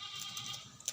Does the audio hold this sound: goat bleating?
yes